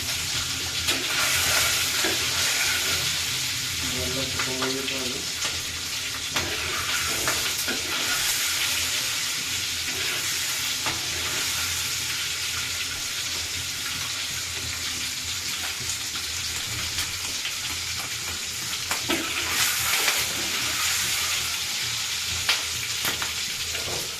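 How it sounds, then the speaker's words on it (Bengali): Eggs frying in a pan while being stirred for a spiced egg curry, a continuous sizzle with scraping stir strokes and occasional watery splashes, no voice heard. "তো আমি ডিমগুলো দিয়ে নিছি, এইভাবেই ভাজতে থাকবো।"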